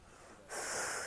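A person doing seated exercise lets out a forceful, hissing blow of breath after a quiet inhale, the exhale starting abruptly and sustained, close and clear.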